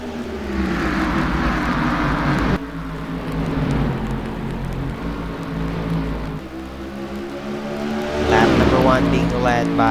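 Race cars roar around Richmond Raceway in a racing video game, a dense layered engine drone with shifting pitch sweeps, heard under steady commentary.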